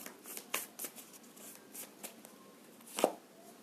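Tarot cards are handled and set down in a quiet room: a series of soft flicks, slides and light slaps, with one sharper tap near the end.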